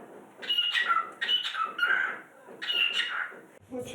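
A small bird gives loud, harsh squawking calls in three close bursts of rapid chirps, with short pauses between them and a brief lower sound at the end.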